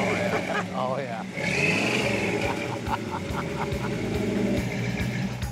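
Restored 1942 Ford pickup truck engine running and revving, a loud continuous rumble with repeated throttle bursts and excited voices talking and cheering over it throughout.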